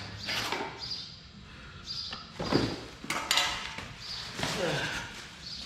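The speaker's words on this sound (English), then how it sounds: "Another band clamp right there. More band clamps. Lots of band clamps." Metal exhaust band clamps for a 6.6 Duramax race pipe kit are handled and shifted around, giving scattered clinks, scrapes and knocks at close range, with a few sharper metallic hits mixed among softer rustling.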